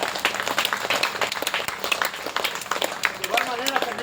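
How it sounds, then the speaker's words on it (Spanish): Church congregation claps at the end of a prayer, sharp scattered handclaps in an uneven patter, with voices talking and calling out over them. "Un aplauso al Señor."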